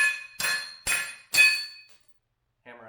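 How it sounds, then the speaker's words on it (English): Four sharp metallic hammer blows ring out at a steady pace as wheel studs are driven out of a 1972 Camaro C-clip axle whose end rests on a piece of wood on a shop floor, followed by a brief faint tone. "hammer out the axle stud"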